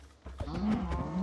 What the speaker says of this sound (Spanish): ¿Vienen todas las vacas de Minecraft o qué?